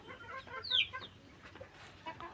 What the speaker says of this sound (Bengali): এই যে আমার টার্কি মুরগি, আমার খুব পছন্দের আর খুব শখের একটা মুরগি।